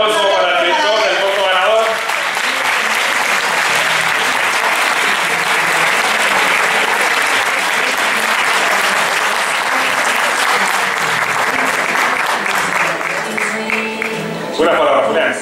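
Sustained applause from an audience at the CORTEM 2022 film awards gala at Cine Muñoz in Tembleque, loud and dense throughout, with a voice speaking briefly at the start and end.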